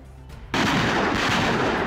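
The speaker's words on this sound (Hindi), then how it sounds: "यूक्रेन के सैन्य ठिकानों को टारगेट करके रूस के मल्टीपल लॉन्च रॉकेट सिस्टम लगातार बारूदी बौछार कर रहे हैं" A Russian multiple launch rocket system fires barrages at Ukrainian military positions near the Donetsk front, the launch noise erupting suddenly and then holding as a dense, continuous roar.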